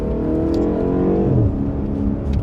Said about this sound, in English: it's a good exhaust rumble in here